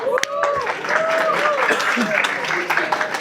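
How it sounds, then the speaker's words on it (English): Audience applause at an evening tech meetup in Manila, steady clapping for a few seconds beneath overlapping voices and cheers. "Give him a round of applause."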